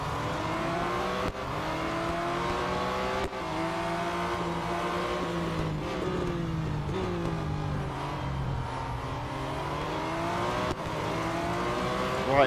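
Race cars in the Real Racing 3 mobile racing game, engines revving and shifting through gears continuously with rising and falling pitch, loud and close with occasional sharp gear changes.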